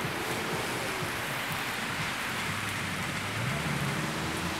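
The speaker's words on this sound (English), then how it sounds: "It's really raining, and I think the water got on my lens." Heavy rain pours down steadily outdoors in Sarchi Norte, a dense, loud, unbroken hiss of drops spattering on surfaces with no voices.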